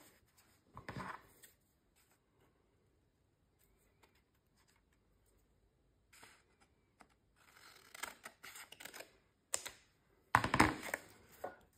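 Scissors cutting 12x12 paper for a large junk journal tag, brief paper rustle early, then clustered snips and crisp paper sounds toward the end, close and quiet with no talk.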